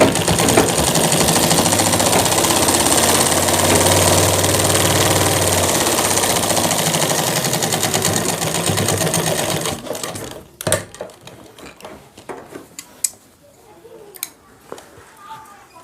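Sewing machine stitching a shirt, a close, loud, steady mechanical whir that runs for about ten seconds and then stops. Scattered clicks and handling noises follow.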